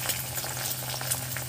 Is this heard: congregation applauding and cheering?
no